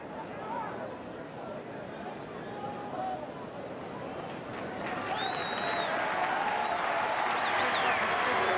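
A stadium crowd at a 1991 rugby league match between Manly Sea Eagles and Brisbane cheers and applauds Martin Bella as he leaves for the bench. The dense, rising ovation sits under a commentator's voice.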